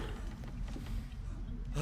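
A wolf growls in the survival game The Long Dark, a low continuous rumbling snarl that runs steadily through the whole stretch at close range, with no talk over it.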